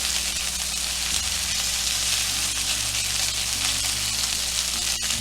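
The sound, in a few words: chicken tenders sizzling in a frying pan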